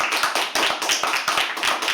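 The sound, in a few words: audience applause for a performer at a poetry open mic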